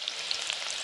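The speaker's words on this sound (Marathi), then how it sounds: "फोडणीसाठी कांदा आणि लसूण तेलामध्ये टाकूया" Onion and garlic frying in hot oil as a tempering for a wild mushroom dish, giving a brief, steady close sizzle with a few faint pops and no talk.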